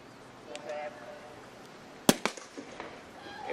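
Starting gun for a girls' Class 3A 4x400 meter relay heat at a track meet: one sharp, loud crack near the two-second mark with a short echo, following a quiet stretch of crowd murmur.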